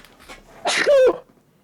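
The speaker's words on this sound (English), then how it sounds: "I'm going to sneeze." A single person sneezes loudly and close, a short sharp burst after a brief breathy build-up, then quiet.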